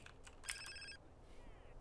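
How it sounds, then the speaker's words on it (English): A telephone rings once in GTA: San Andreas Definitive Edition, a short electronic ring with a bright tonal burst, fairly quiet over a low game ambience. "Phone call?"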